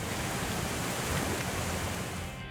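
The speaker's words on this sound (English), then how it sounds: "that means churning water in turbulence." Churning, turbulent water rushes steadily as a Welland Canal lock fills, a loud continuous broadband roar like heavy surf with no voices.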